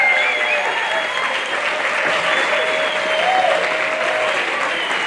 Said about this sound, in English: please stand so we can clap for you as well